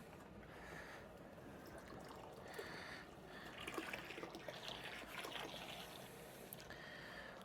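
Water poured into a brewing pot to top it off before the boil for a Czech premium pilsner, a faint, steady trickling and splashing that swells in the middle.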